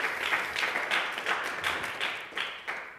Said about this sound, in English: he actually really deserves a big round of applause